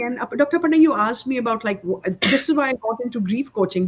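A single sharp sneeze bursts out mid-conversation, loud and close, surrounded by continuous talk from the people speaking.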